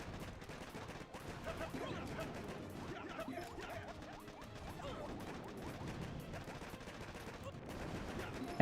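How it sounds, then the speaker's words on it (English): Machine gun fire from level 4 machine guns in the mobile strategy game Boom Beach, a steady dense rattle of shots and impacts that runs the whole time at an even, moderately loud level. "it's level 4 machine guns"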